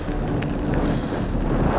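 Strong wind buffets the microphone during a long mountain bike ride, a dense, continuous low roar that fills the whole moment with no voice over it.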